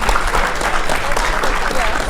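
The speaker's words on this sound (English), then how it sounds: "give yourselves a round of applause" A podcast audience claps steadily throughout, dense and close, with a voice faintly mixed in.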